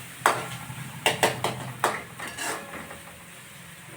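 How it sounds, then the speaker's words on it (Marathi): Loud metallic clanks of a spoon knocking against a pot while rice is fried, several sharp bangs in an uneven rhythm over a low steady hiss, with no talk. "भात फ्राय करू राहिले तर काय ठोकू ठाकू राहिले बाई."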